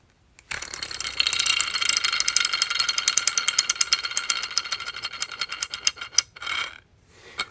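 A fidget toy is turned and locks back into place with a rapid run of close, crisp ratcheting clicks. The clicks start suddenly, go on for several seconds, thin into separate clicks and end with one last short burst.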